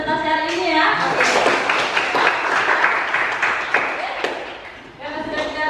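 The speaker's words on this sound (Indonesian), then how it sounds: "berikan tepuk tangan dulu untuk yang presentasi hari ini ya" A classroom gives applause after a student presentation: many hands clap in a dense, lively patter for several seconds, with a teacher's voice briefly heard before and after.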